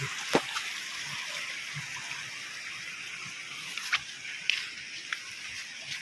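Steady broadband rush of flowing water, like a waterfall, with a few faint clicks and splashes rising above the constant wash.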